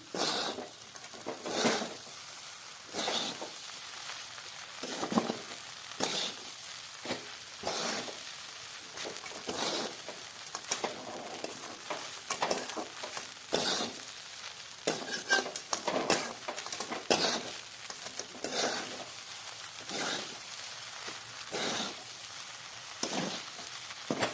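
Sabudana khichdi being stirred in a pan, a spoon scraping and tapping the metal in a steady repeating rhythm for the whole stretch over a faint sizzle, heard close with no voices.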